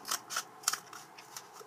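Dull scissors snip through a cardboard toilet paper roll in a handful of quick, close crunching cuts, irregularly spaced, with no talking.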